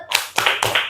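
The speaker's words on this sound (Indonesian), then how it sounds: "Ya, berikan tepuk tangan pada teman kita." Three sharp, evenly spaced hand claps in a classroom, close and crisp, each one a distinct smack with silence between them and no talking.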